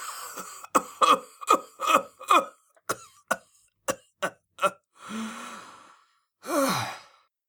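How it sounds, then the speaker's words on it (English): A person coughs in a harsh, rasping volley of rapid bursts, then lets out two long, heavy groaning breaths, close and loud. "A horrible rasping cough shook his big body and brought a sweat to his brow."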